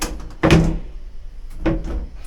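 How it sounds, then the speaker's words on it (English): A push-button drawer in a cruise ship cabin, giving two distinct thunks about a second apart, the first louder, with short knocks in between and quiet room tone around them. "Push button drawer."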